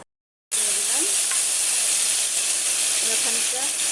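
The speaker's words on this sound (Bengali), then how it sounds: "মশলাটা একটু ভেজে নিচ্ছি।" Whole cumin and spices fry in hot oil with a loud, continuous hiss and sizzle, broken by a few stirring scrapes after a brief silent start.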